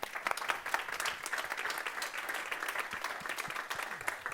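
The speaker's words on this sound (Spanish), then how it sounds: "podemos dar un aplausillo, ¿no?" Steady applause from a small audience at a book presentation, dense clapping continuing evenly throughout, moderately distant and fairly soft.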